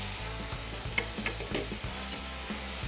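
Meat stir-frying for japchae with grated garlic and ginger gives a steady, close sizzle, broken by light scraping of stirring in the pan.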